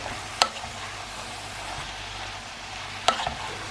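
Purslane with added spices being stirred in a pan over quiet frying, with two sharp spoon scrapes against the pan standing out.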